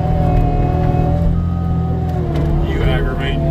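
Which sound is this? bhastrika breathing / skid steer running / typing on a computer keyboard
skid steer running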